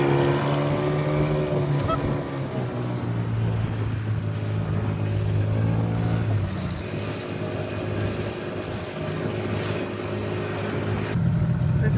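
Motorboat engines drone loudly and close by off an island beach at Koh Rok, one humming tone sliding downward as a boat passes, with wind buffeting the microphone and steady wash in the background.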